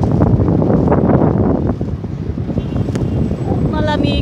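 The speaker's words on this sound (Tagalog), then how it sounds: "Malamig ang simoy ng hangin." Cold wind gusting outdoors in Copenhagen, a steady loud rumble buffeting the microphone throughout, with a brief high whistle and faint background tones near the end.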